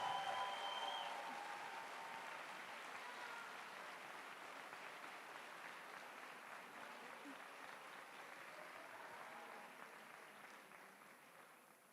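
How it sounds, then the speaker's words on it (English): Long, fairly faint audience applause for five finalists at a closing ceremony, a broad wash of many hands clapping that holds steady and slowly thins over twelve seconds, with brief tonal sounds near the start. "I would like to once again have a huge applause for all 5 finalists"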